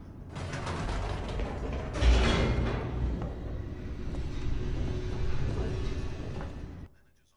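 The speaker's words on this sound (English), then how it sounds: "The elevator raced downward, plummeting towards an unknown fate." An elevator in The Stanley Parable races downward with a continuous mechanical rumble, creaking and grinding gears, loud and steady for several seconds before stopping abruptly.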